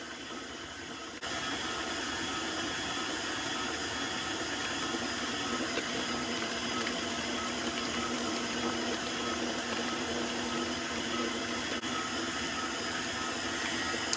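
An electric hand mixer beats whole eggs into butter pecan cake batter, giving a steady whirring drone. The drone starts after a brief quieter moment and runs unbroken and fairly loud throughout.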